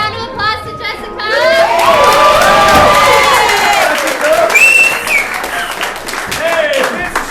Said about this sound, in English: Let's give a round of applause to Jessica.